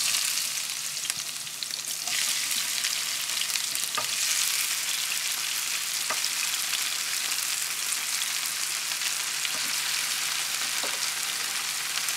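Onions, peppers and tomatoes fry in a pan for ratatouille, giving a steady close sizzle with occasional stirring clicks and scrapes, no voices.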